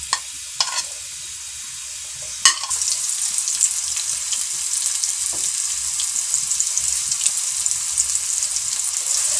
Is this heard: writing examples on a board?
no